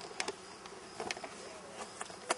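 Honey bees shaken from a summer hive frame buzz faintly in a soft, steady drone, with scattered close passes and light taps rising above it over a couple of seconds.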